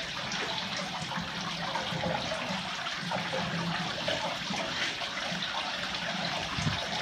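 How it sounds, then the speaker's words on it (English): A shower runs steadily as a pit bull is washed under it, a constant hiss of spraying water with faint splashes and no clear talk. "are you having a good shower?"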